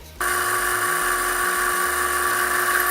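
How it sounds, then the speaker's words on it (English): A small high-speed Dremel rotary tool with a sanding wheel starts up abruptly and whines steadily, close and loud, with a shrill constant pitch. "we're going to put a Dremel sanding wheel into this thing, and we're going to sand it out that way"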